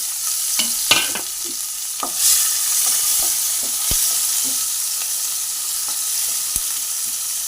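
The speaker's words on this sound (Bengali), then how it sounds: "ওই তেলের মধ্যে আমি পেঁয়াজ কুচিগুলো দিয়ে দেবো" Chopped onions fry in oil left from frying pointed gourd, a continuous loud sizzle broken by scattered pops and the clicks and scrapes of a spatula stirring the pan.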